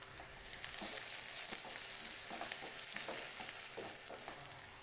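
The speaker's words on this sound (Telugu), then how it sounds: "ఆనియన్స్ కొంచెం మగ్గేంత వరకు ఫ్రై చేసుకోవాలి" Onions and green chillies frying in oil in a pan, a steady hiss of sizzling with light crackles and occasional soft stirring scrapes, no voices.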